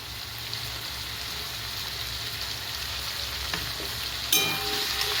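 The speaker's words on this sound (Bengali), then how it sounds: "টমেটোগুলো দিয়ে আমরা চিকেনটাকে আরও বেশ কিছুক্ষণ 2-3 মিনিটের মতো একটু নাড়াচাড়া করব" Chicken and chopped tomatoes frying in a pot, a steady close sizzle with occasional scrapes of stirring and a louder clatter near the end.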